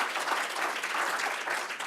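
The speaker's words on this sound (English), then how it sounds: "We can give her, both of them, a round of applause as well" Audience at a film screening applauding, a dense steady wash of many hands clapping throughout.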